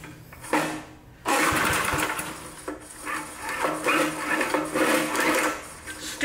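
An old push lawn mower engine sputters as it starts, then runs roughly with an uneven, surging rumble close by.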